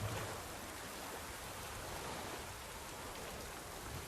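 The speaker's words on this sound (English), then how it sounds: "Man, the rain in here is actually really cool." Steady rain falls in The Witcher 3 video game, a dense, even broadband hiss of drops that holds at a constant level throughout with no talk.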